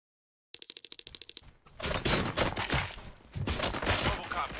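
A rapid burst of about ten gunshots rattles in the video game RoboCop Rogue City, followed by heavier, denser gunfire and loud crashing action, all close and loud.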